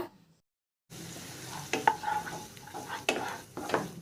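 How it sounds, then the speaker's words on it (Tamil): Onions with half a spoon of ginger-garlic paste fry and sizzle in a pan while a spoon stirs and scrapes, giving a steady close hiss with a few sharp clinks, after a brief silent start. "ஒரு அரை ஸ்பூன் இஞ்சி பூண்டு விழுத சேர்த்துக்குங்க."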